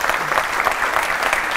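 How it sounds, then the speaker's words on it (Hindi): Loud applause from a television studio audience, a dense burst of clapping filling the whole moment, close and continuous. "तालियां बजाइए देखिए उनके लिए।"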